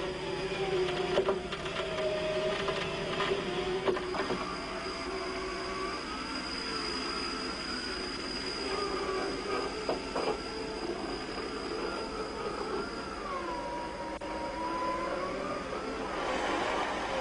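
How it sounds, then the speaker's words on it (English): An off-road vehicle winch winds in its cable with a steady mechanical whine and grinding, some creaks and clicks along the way, close and continuous with no talking. "Keep checking that the cable is being wound up cleanly, but don't get too close."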